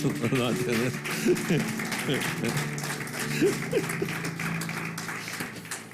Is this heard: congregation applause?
yes